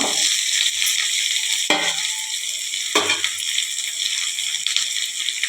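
Chopped ridge gourd dropped into a hot pan of tempered oil for a Tamil poriyal, a continuous loud sizzle broken by a few stirring scrapes, close and without talk.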